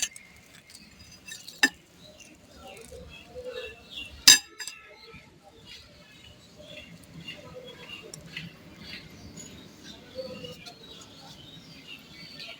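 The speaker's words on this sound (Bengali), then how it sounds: "আমি কেটে দেখিয়ে দিচ্ছি এটা কতটা ক্রিস্পি হয়েছে" A knife slices through a crispy potato sandwich, giving two sharp crunching cracks with light clinks against a plate amid quiet kitchen background noise.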